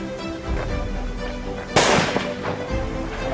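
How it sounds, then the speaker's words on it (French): A small firecracker bursts once with a sharp loud crack partway through, its noise trailing briefly over a steady background hum. "alors que le pétard, lui, il va exploser"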